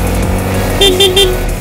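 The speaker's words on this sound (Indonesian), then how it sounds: "Jangan lupa klakson ya teman-teman ya kalau kalian melewati jalan seperti ini" A vehicle horn gives three quick, evenly spaced toots on a winding rural road in the early morning, sounding over a steady, close engine rumble.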